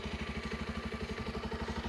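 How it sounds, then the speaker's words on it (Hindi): Close, steady idle of a Bajaj Pulsar 125 motorcycle's 125cc engine, with an even, rapid low thumping pulse running unbroken throughout, no speech over it. "आइडियल कंडीशन पर इंजन साउंड"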